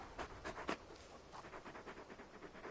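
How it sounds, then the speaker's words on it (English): A very big dog pants in Final Fantasy XVI with quick, rhythmic, breathy huffs, faint and continuous throughout. "You're just a big puppy, aren't you? A very big puppy."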